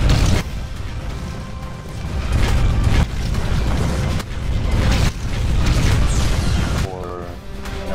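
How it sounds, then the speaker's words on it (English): A rocket launcher fires repeatedly in the video game Implosion, with a series of loud, close booming blasts and heavy explosions in an irregular rhythm and mechanical clatter between them. "So now I have a rocket launcher."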